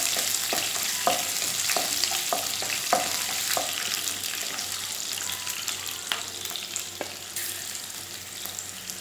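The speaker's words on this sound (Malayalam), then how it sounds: "ഇനി അതിലേക്ക് എടുത്തു വെച്ചിട്ടുള്ള ഇഞ്ചി, പച്ചമുളക് ചേർത്ത് കൊടുത്ത് ഒന്ന് വഴറ്റുക." Ginger and green chilli sauté in hot oil with popped mustard seeds for rava upma, giving a steady close sizzle broken by scattered scraping clicks of stirring.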